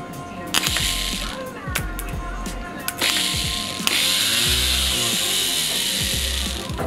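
A Bedford CF van starter motor whirs and grinds on a workbench in several loud mechanical bursts with rattling gear noise, running continuously near the end.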